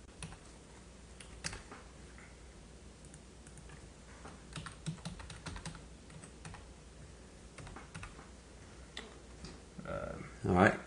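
Keys on a computer keyboard are tapped in quiet, scattered bursts while a password is entered, with faint background talk.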